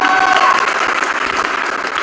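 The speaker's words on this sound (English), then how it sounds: "Do I get a round of applause for that?" Round of applause from the audience at a business summit in Dubai, a full, steady burst of clapping that carries on evenly throughout.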